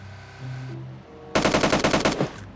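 Rapid burst of automatic gunfire in PUBG Mobile, a dozen loud evenly spaced shots ripping out after a quieter stretch of game ambience, then cutting off.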